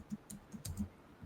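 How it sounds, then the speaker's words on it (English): Computer keyboard arrow keys pressed in quick irregular clicks, about half a dozen soft taps close to the microphone with no talk over them. "I'm holding down the arrow keys."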